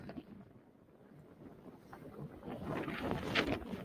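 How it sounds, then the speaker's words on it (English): Wind sweeps across the Tipon archaeological site in Peru, a faint, low rush that builds gradually and gusts more strongly near the end, buffeting the microphone, with no speech. "Very windy."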